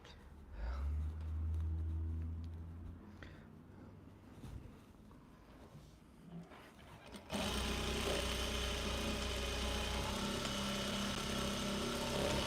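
A sewing machine stitching a flannel t-shirt hums and rattles steadily up close, pausing briefly midway and then running again louder and faster until the end.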